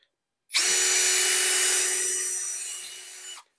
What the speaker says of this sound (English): I drill a series of small diameter holes all the way through the dado rail